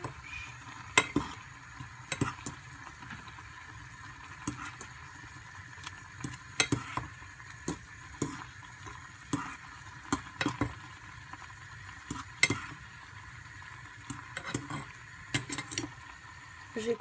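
Food frying in a pan is stirred steadily, with repeated scraping strokes and light clinks over a low, continuous sizzle, close and fairly quiet, with no talk.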